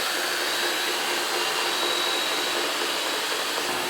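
A robot vacuum cleaner hoovers a kitchen floor, giving a steady, continuous whirring hiss with no pauses, close and fairly loud, with no voices over it.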